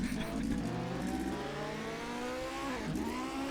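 A car engine in a racing video game on an icy racetrack revs with rising and falling tonal whine, steady and fairly quiet, with a brief dip near the end.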